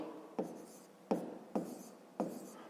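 A pen or chalk writes out a fifth-grade math solution, giving four faint, brief scratchy strokes with quiet pauses between them, close by and alone.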